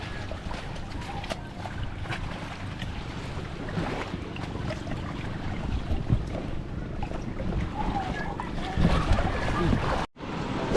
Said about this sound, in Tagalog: Ito yung aming bangka